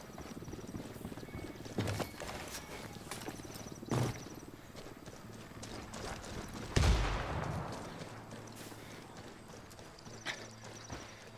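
A C4 charge detonates in the video game Ghost Recon Wildlands: one sudden boom partway through with a rolling, fading rumble, set among quieter game ambience and a few scattered thuds.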